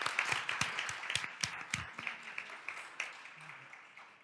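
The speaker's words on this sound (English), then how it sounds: "a big round of applause over there" Scattered clapping from a small audience at a school district governing board meeting, a sparse run of individual claps that thins out and fades, fairly quiet and heard alone.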